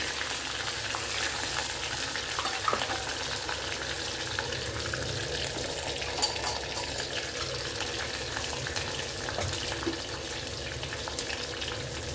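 Garlic with mustard seeds and fenugreek sautés in oil, producing a faint, continuous hissing sizzle that stays steady and even throughout.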